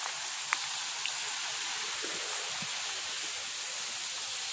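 Nakamura waterfall on Morotai roars as a steady, broad wash of falling water, heard alone and unbroken, with a faint click or drip near the start.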